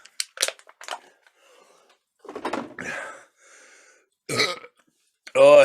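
Several loud, guttural beer burps after chugging beer come in separate bursts with short pauses between them. The last burp is the longest and strongest.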